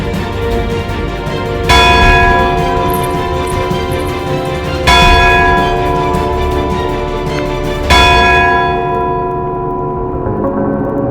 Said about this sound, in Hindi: ये घंटी तो तब बजती है जब राज परिवार में से किसी सदस्य की मृत्यु होती है।